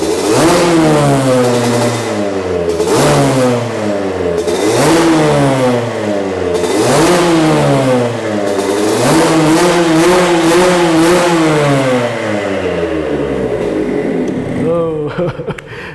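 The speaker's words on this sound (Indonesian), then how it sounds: "ini adalah suara motor Air King yang udah kita custom, knalpotnya juga kita bikin custom sendiri." Customized Yamaha RX King two-stroke motorcycle with a handmade custom exhaust, revved hard in repeated rising and falling bursts, loud and close throughout, with a crisp crackling tone.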